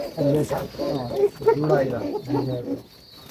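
Pigeons of an improved breed coo in a steady, overlapping series of soft throaty calls, close by, with speech mixed in among them.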